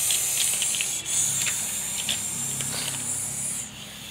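Running water sprays and hisses steadily from a tap as corn is washed, with brief interruptions as the corn is moved under the stream.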